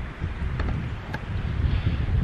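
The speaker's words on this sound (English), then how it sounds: "It's a bit windy." Wind gusts across a beach in New Zealand, buffeting the microphone with a steady low rumble that holds throughout, with no voices.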